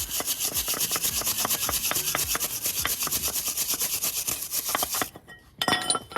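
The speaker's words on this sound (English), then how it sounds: "is you just wire brush those, make sure they're clean of any debris" A wire brush scrubs the pad channels of a Ford Focus brake caliper in fast, rhythmic back-and-forth strokes, close and steady, then stops with a few light clinks.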